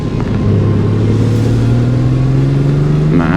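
2022 Honda Gold Wing 1800 DCT motorcycle with its 1,800 cc engine pulling under load, a loud deep rumble whose pitch climbs steadily during acceleration, heard close from the rider's position with wind noise.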